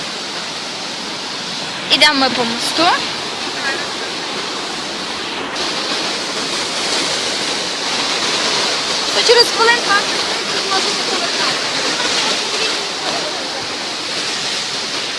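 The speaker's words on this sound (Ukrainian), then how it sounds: "То такий прикольний водоспад." A mountain waterfall in the Carpathians roars steadily as a background wash, heard from a footbridge. People talk over it, with a couple of brief louder vocal bursts.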